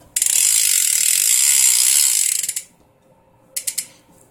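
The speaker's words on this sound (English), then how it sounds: "Hub sound." Rear hub of a Mongoose Mode 540 BMX bike with a 3/8 inch axle, ratcheting in a loud, fast, steady buzz of clicks for about two seconds, then a few short separate bursts after a pause.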